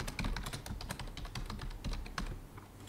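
Rapid, steady keystrokes on a computer keyboard, tapped close and clear at a brisk, even rhythm while diagrams are drawn for a systems analysis lab, with no voices over it.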